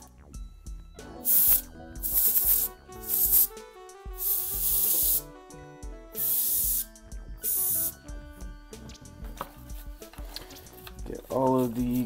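Short hissing bursts from an air duster, used with a toothbrush to clean the bridge of a bass guitar with the strings removed, come in repeated blasts over steady background music.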